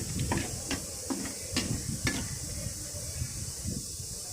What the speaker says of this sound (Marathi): तर बघा मसाल्याला छान उकळी फुटली